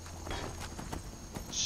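Horse galloping at full speed in the video game Skyrim, a quick run of soft rhythmic hoof thuds close by, alone with no voice over them.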